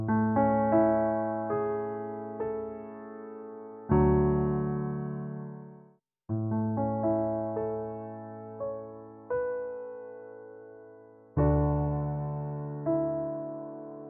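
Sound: FL Studio close grand piano preset played on MIDI keyboard

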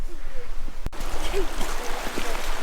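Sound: swollen mountain stream flowing

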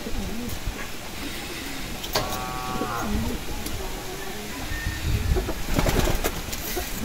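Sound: racing pigeons cooing

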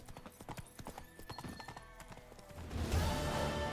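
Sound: horse Roach's hooves in video game The Witcher 3

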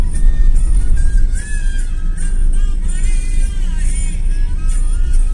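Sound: road traffic in Pune street

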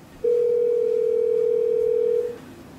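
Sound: incoming phone call ringing on iPhone and iPad

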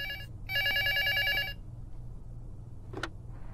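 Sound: telephone ringing in a video game

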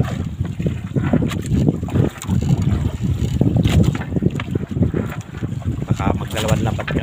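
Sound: strong sea waves rocking a boat

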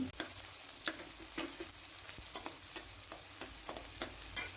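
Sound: chopped onions and green chillies frying in oil

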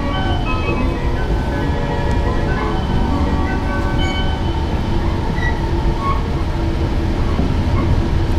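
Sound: Tohoku Shinkansen train accelerating

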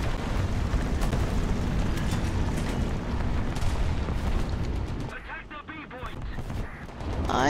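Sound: flamethrower firing in a tank video game

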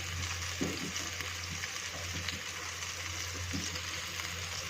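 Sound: fish pieces frying in hot oil

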